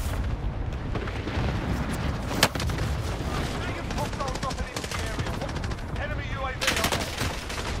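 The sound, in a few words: cluster strike explosions in Call of Duty Warzone video game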